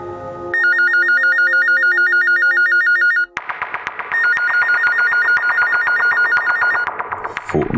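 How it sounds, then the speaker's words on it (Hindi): A telephone rings loudly with a repeating electronic trill, broken by a short gap and then a second, harsher stretch of ringing with no voices over it. "फोन तो उठाओ"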